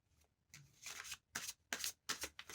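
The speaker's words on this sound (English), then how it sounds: "One more shuffle for good luck." A large tarot card deck is riffled and shuffled by hand in a quiet room: several crisp, papery bursts of flicking cards come in quick succession, each ending in a soft slap, close and fairly soft.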